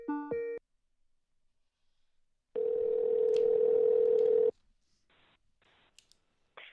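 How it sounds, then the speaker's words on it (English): A steady telephone dial tone sounds for about two seconds while a call is being placed, preceded by a short electronic beep and followed by faint clicks on the line. "Let's hit another dial."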